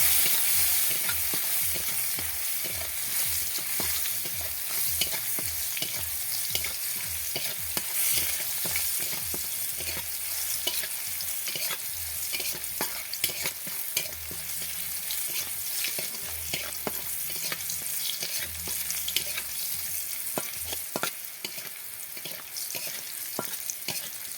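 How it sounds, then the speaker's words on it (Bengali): Crushed garlic with a little turmeric fries in hot oil, a steady close sizzle broken by regular scraping strokes of a spatula stirring the pan, with no talking. "এবার সামান্য হলুদ দিব এবার রসুনটা ভালো করে ভেজে নেব"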